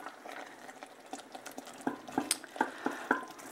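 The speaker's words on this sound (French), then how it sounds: "mon zalouk est en train de cuire tranquillement" Zalouk cooks in a pot over medium-low heat, with soft bubbling and a spoon stirring and clinking against the pot in irregular taps that grow sharper toward the end.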